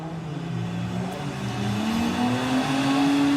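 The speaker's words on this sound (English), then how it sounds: "So you hear the boost being built up for James" A drag racing car at a Volkswagen drag racing eliminations event builds turbo boost, its engine note rising in a steady climbing whine over a loud continuous rumble.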